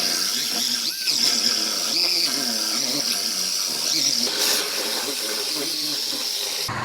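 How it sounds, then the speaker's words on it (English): A worn Chevy Malibu's outer body panel being cut off in a body shop with a high, steady whining cutting tool that drones on continuously, close and loud, with faint scraping shifts throughout. "I'm gonna go ahead and get this outer panel cut off"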